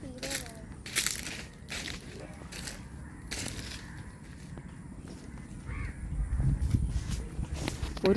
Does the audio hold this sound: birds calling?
yes